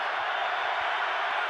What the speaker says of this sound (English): if you look or listen to this crowd, believe me, this is a Pittsburgh Steeler crowd